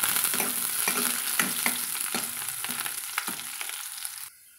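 Onions and curry leaves sauté in a pan for a cauliflower kurma, a steady close sizzle with repeated scraping stirs in an uneven rhythm, then falling quiet at the end.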